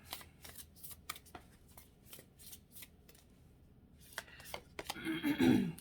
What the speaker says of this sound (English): Let's pull a card from Rebecca Campbell's The Starseed Oracle.